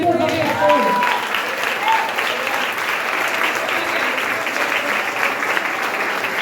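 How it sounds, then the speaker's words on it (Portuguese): A church congregation at a Brazilian worship service claps steadily in sustained applause, with a voice briefly audible at the start over the crowd, then continuous clapping filling the room. "Você que crê, aplauda Jesus"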